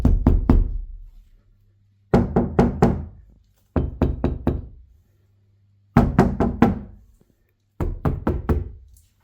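A hand knocks on a car's front door panel treated with sound deadening, in five close bursts of several quick, fairly dull raps each, separated by short silences with a faint low hum between.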